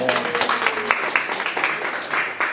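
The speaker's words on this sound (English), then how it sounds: "We give them a round of applause." Applause from the audience at a jazz lunch show, a dense patter of clapping with voices and cheers mixed in, steady and fairly close for a few seconds.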